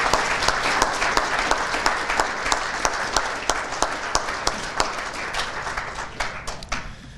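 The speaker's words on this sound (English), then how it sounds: "How about a round of applause again for all the Civics Day participants." An audience at a school civics day luncheon applauds with steady clapping that continues for several seconds, then thins out and fades at the end.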